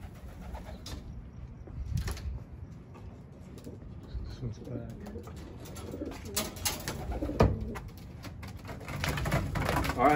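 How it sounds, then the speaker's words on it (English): Racing pigeons cooing outdoors after returning from an 80-mile training toss, soft repeated coos with scattered clicks and flutters, a person talking quietly over them. "So that white racing pigeon right here just got here."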